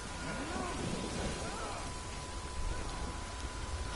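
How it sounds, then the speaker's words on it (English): Steady rain falling in the video game Death Stranding, a dense continuous hiss that stays even throughout, with faint low rumbles beneath. "Oh, it started raining."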